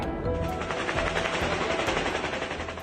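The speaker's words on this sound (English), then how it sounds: "Gunfire was aimed at the sky during a suspected drone attack in the Pskov region" Rapid gunfire is fired into the sky during a suspected drone attack in Russia's Pskov region, a dense, crackling run of shots that keeps going at a steady rhythm, heard from a middle distance.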